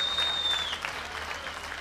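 Audience applause at a GAMA fight event, a steady wash of clapping from a crowd filling the whole moment, with a brief high electronic tone near the start.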